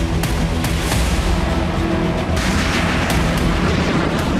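Heavy explosions from bombardment in southern Lebanon, a loud, continuous wall of rumbling booms with sharp blasts cracking through, and no voices.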